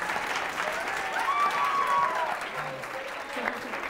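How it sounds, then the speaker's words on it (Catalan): A studio audience on a Catalan television quiz show applauds, a moderate steady clapping wash mixed with brief tonal electronic tones and a busy studio background. "Sí, sí, aplaudiu, aplaudiu."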